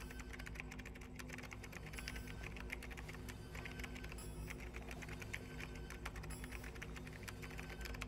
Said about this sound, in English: Guess he would be old school to want a mechanical keyboard there.